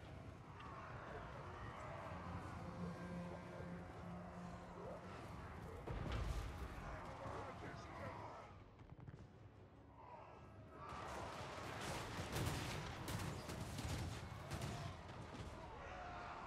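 Booming cannon blasts from a Total War: Warhammer III battle, with bursts of heavy explosions around the middle and later, under a dense wash of battle noise.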